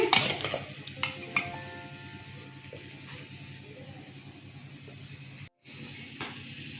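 Onions fry in a pan, giving a steady close sizzle with scraping stirs and clinks, while a cook works nearby on a fish kalia dish; a short gap of silence breaks the sound near the end.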